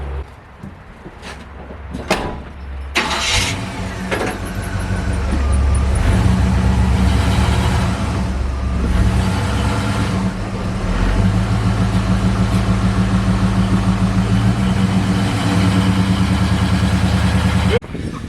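A Chevrolet C10 pickup is driven up onto 2x4 boards for an oil change. A few clicks and knocks come first, then the engine starts and settles into a steady, close, loud rumble that runs to the end.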